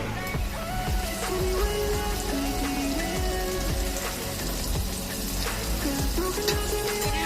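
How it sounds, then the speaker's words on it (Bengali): Sliced onions fry steadily in hot oil for biryani birista, giving a continuous, even crackling sizzle close by, with no voices over it. "এখানে ভাজা হবে বেরেস্তা, মানে পেঁয়াজটাকে ভাজা হবে এখানে সুন্দর করে"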